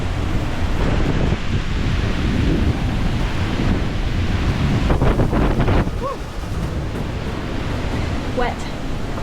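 Strong wind and rough water around a sailboat riding at anchor on the Chesapeake in a passing blow, loud gusty roar and rumbling buffeting on the microphone, with waves slapping throughout and brief faint voices near the end.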